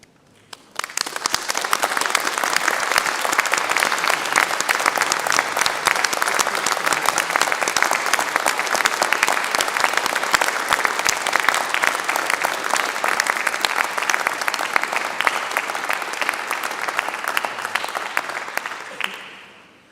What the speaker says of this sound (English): join in giving them a well-deserved round of applause